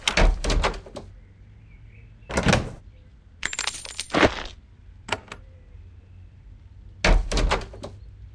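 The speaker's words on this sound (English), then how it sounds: "you will open the door automatically" A door in the fantasy role-playing game Geneforge 2 opens in a series of short, sharp clattering bursts, several clustered clunks and scrapes separated by quiet gaps, close and fairly loud.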